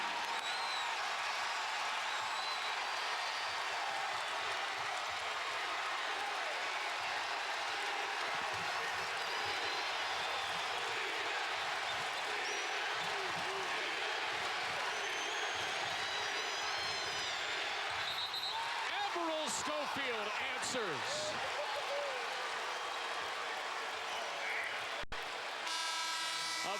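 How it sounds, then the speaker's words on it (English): A frenzied home crowd roars at a Tennessee versus Memphis college basketball game in Memphis, a dense, sustained wall of cheering with horn-like toots and a commentator's brief remark over it. "A frenzied crowd here in Memphis, the likes of which they haven't seen in a long time"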